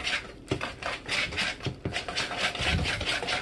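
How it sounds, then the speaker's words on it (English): A whisk beats egg and oil together in a bowl, making a quick rhythmic scraping and rubbing, close and moderately loud with no voices. "take my whisk. Start cracking up that egg and mix it all together"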